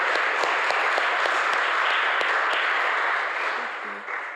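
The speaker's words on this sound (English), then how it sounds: "Give a round of applause." A congregation applauds steadily inside a Unitarian chapel during a Sunday service, a dense wash of clapping that holds for several seconds before gradually thinning out.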